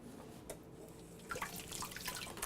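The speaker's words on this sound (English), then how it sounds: "I like to give it a little rinse just to get some of those extraneous hairs off." Corn is rinsed under a running kitchen tap, a quiet steady trickle that turns into brighter splashing and spattering partway through as the water hits the ear.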